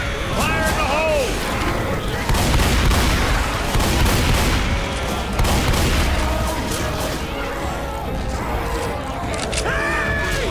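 A grenade is thrown and explodes in Left 4 Dead 2 on the custom map The Parish, amid dense, loud combat noise with booms and rattling gunfire, while voices shout over the chaos.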